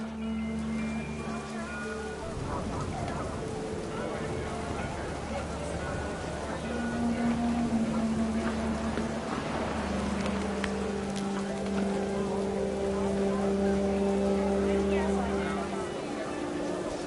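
Steady rain pours down in a video game scene, a constant hiss beneath a voice narrating throughout, joined by a low, sustained hum.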